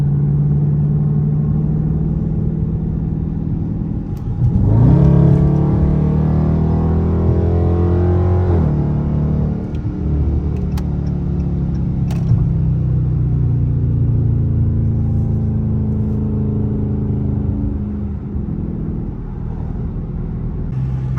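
A Dodge Charger R/T engine rumbles loudly on a canyon drive, rising in a strong rev and pull near the start, then settling into a steady, deep cruising drone for the rest.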